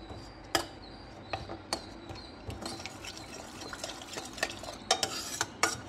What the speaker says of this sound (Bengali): আর এই যে কাঁচা লঙ্কাগুলো, এটাকে আমি আস্তে করে ম্যাশ করে দেবো